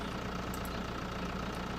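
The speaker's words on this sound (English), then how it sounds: "look how just raising and lowering really puts load on the front of this tractor." Tractor engine labouring under load in Farming Simulator 2013 as a front loader is raised and lowered, a steady, dense mid-low drone running unbroken throughout.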